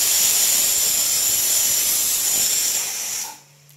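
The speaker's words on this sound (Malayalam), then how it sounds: "സോറി, അപ്പുറത്തെ അടുപ്പിൽ കഞ്ഞി ഉണ്ടാക്കിക്കൊണ്ടിരിക്കുകയാണ്, അതുകൊണ്ടാണ് കേട്ടോ" Steam hissing hard from a pot of rice gruel cooking on a nearby stove: a loud, continuous, bright hiss that holds steady, then dips and cuts off abruptly near the end, leaving quiet.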